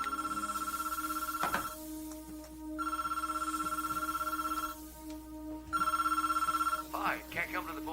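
A telephone rings in three loud, trilling bursts separated by pauses before an answering machine picks up, with voices and a click-like sound near the end.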